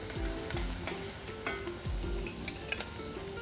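Courgettes for ratatouille fry in a hot pan with a constant close sizzle, broken by repeated stirring scrapes and light utensil knocks.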